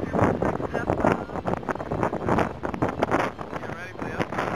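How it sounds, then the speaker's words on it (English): Gusty wind on the open Great Plains of Oklahoma buffets the microphone in uneven rushes, loud and close, with a voice talking over it throughout. "See the wind? Just kicking her around a little bit. Yeah, it's a little windy out there."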